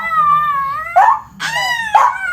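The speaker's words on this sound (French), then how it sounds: "Il arrête pas d'aboyer." A dog lets out a run of high, whining yips and howl-like barks, three close cries over about two seconds, loud and near with no talk.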